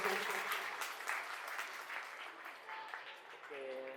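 An audience applauds at a village primary school's annual celebration, steady mid-level clapping lasting several seconds with voices talking underneath and a short tonal sound near the end.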